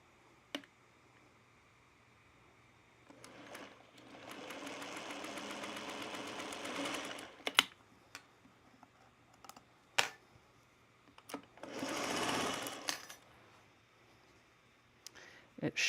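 A sewing machine runs in two bursts, stitching the seams of a spool-pattern quilt top, with clicks and handling noises between them and a person talking nearby.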